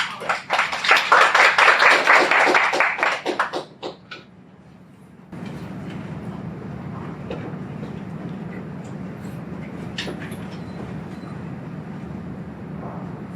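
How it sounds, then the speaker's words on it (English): Audience applause for two student presenters at an internship presentation on trademarks: a dense burst of clapping that lasts about four seconds and then fades, followed by quiet room tone. "So let's give her a round of applause"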